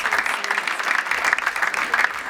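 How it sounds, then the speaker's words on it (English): Audience applause at the ATP Cup tennis draw, honouring former world number one players including Hewitt; a steady, dense round of clapping from a crowd that carries on without a break. "A round of applause for the number ones."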